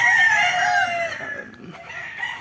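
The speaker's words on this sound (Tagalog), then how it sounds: "Ayan ang kanyang mga manok." A rooster crows loudly close by, one long drawn-out call that trails off into quieter clucking and farmyard noise.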